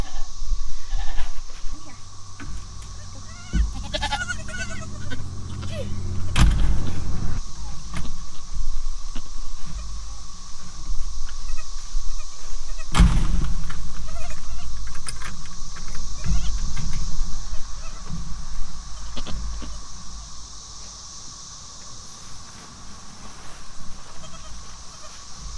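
Newborn goat kids bleat on a farm, the last kids of the year, with repeated calls over steady background noise, a few sharp knocks and rustles, and some quiet talk.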